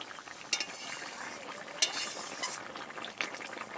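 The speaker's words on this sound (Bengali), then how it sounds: "একটু নেড়ে চেড়ে নেব" Pomfret fish curry with green tomato and potato is stirred in a pan, with a gentle bubbling simmer broken by a few sharp clinks of a utensil against the pan.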